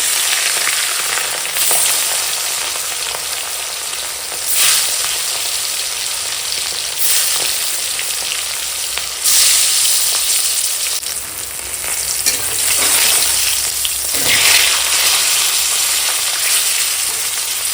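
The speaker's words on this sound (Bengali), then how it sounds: "তো চলো এখন ভেজে নেবো তেল গরম হয়ে গেছে" Catla fish pieces rubbed with salt and turmeric fry loudly in hot oil, a dense, close sizzle that swells in several bursts as the pieces settle and shift.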